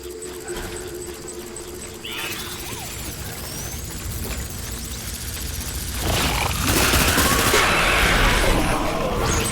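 Gunfire in the Death Stranding video game, bursts of shots and impacts amid a busy battle mix that grows louder and denser toward the end.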